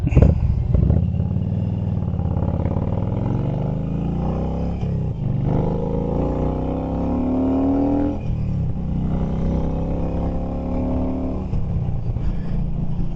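Motorcycle engine under way on a ride, a loud, continuous drone with rising and falling revs as the bike accelerates through the gears, close and steady throughout.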